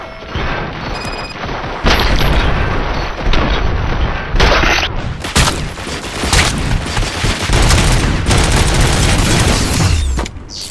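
Heavy gunfire in the RoboCop: Rogue City shooter, with loud, dense bursts of automatic fire and booming shots coming in waves separated by brief lulls.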